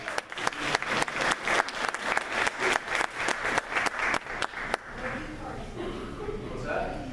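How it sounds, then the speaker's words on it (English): An audience claps loudly in a steady rhythm for several seconds, then the applause cuts off and a murmur of voices follows. "This is where you give me a round of applause"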